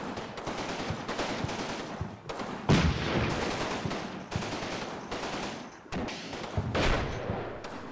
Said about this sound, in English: Hopefully those guys are going to stop firing rifle grenades if they're going to keep firing long.